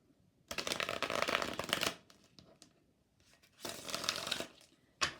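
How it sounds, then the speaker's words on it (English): A Messages of Clarity oracle deck is shuffled up close in two long, dense rustling bursts separated by softer card handling, ending with a single snap. "we're going to pull 2 cards from my Messages of Clarity deck"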